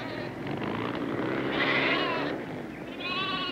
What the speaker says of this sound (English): Oh, you beautiful sheep.